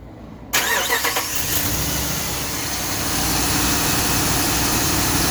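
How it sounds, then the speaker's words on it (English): A truck engine cranks in a short rattling burst and catches, then settles into a loud, steady, rough idle that fills the rest of the stretch with no one talking. "when the cam spins enough and it starts the ignition process, the truck catches spark and it starts like so"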